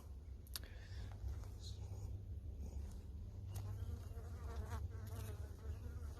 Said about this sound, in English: I have a bee on my neck and it makes me nervous.